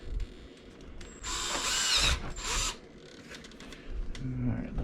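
A power drill bores through the top shaft of a plastic body mount tower on an X Maxx RC car, sounding in two close, loud bursts of about a second and half a second over a quiet room.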